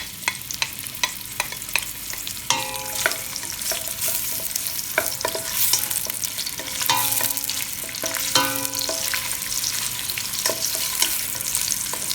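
Sliced onion sizzles and fries in about a cup of hot oil while a utensil stirs it, with steady crackling broken by scraping and clinking strokes against the pan; no one speaks.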